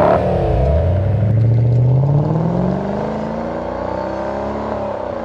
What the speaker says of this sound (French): la Jaguar XKR, équipée d'un V8 4 litres de 375 chevaux et qui est probablement l'un des sons qui arrache le plus les tympans